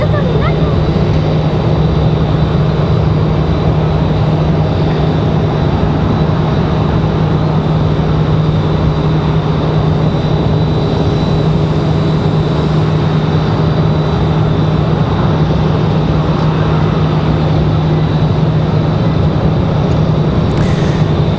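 A jet airliner roars steadily as it takes off from Raleigh-Durham International bound for Washington Dulles, a loud, constant engine rumble and whine, heard alone.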